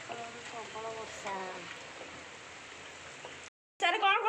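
Heavy monsoon rain pours steadily on a rainy day in Bhubaneswar, a dense continuous hiss that carries on under voices talking nearby, then cuts off briefly before returning with more speech.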